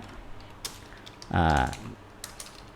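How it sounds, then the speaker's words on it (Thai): Keys clatter on a computer keyboard while editing a Word document: sparse, soft clicks near the mic, briefly interrupted by a short spoken phrase in the middle. "พิมพ์แก้ไขเนื้อหาเอกสารได้ตามปกตินะครับ"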